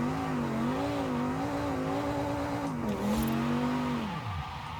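Steady engine drone of a car accelerating in a straight line in Forza Horizon 5, its pitch rising and settling through gear changes with a brief dip near the end, loud and continuous with no voices.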